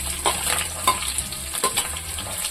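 Thinly sliced garlic hitting hot oil for hotel-style paneer Manchurian crackles loudly and close, a bright fizzing sizzle with bursts of spattering and a few stirring scrapes.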